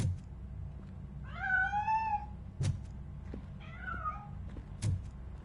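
Two bouts of house-cat meowing from a cat hiding inside a piano, a long wavering cry followed by a shorter one, fairly close, with sharp knocks between them and no talk.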